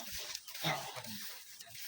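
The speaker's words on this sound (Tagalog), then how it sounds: "Wait lang guys, may aso." A dog on a street gives a single short bark or yelp close by, a brief sharp burst that stands out against a fairly quiet background.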